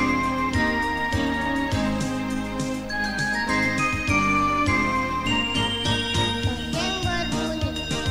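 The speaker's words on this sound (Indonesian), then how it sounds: "Lonceng berbunyi di sana sini" Bright jingling and tinkling bells ring continuously at a Sunday school Christmas celebration at an HKBP church in Batam, layered with sustained musical tones and a steady rhythmic pulse, fairly loud throughout.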